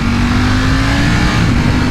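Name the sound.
Ducati Panigale V4S motorcycle engine revving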